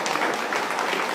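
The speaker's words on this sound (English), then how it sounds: "Just by a round of applause," Brief burst of audience applause at a community forum in agreement to an hour of Q&A, dense clapping from a crowd filling the whole short moment without speech.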